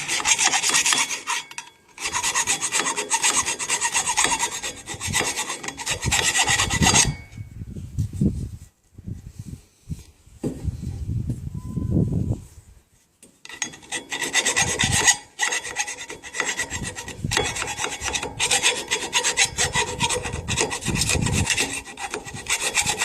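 A metal file rasping burrs off a part while a universal joint and centre bearing are being replaced: loud, close, continuous back-and-forth scraping strokes in long runs, broken by two short pauses.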